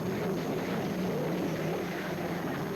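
A conventional racing hydroplane engine roars at the 1984 Houston world championship race, a steady dense drone at even loudness throughout with no talking.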